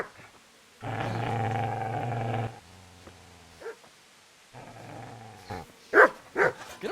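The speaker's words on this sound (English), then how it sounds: "Get away, you mutt!" A dog in the video game Kingdom Come: Deliverance gives a sustained loud growling snarl, followed by several short barks and yelps, standing alone with no talk.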